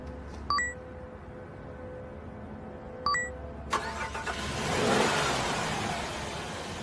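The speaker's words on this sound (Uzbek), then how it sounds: "Qani mashinani o't oldir." A car's engine cranks and catches after a couple of short warning chimes, then settles into a running idle that swells briefly as it revs, moderately close and without talk.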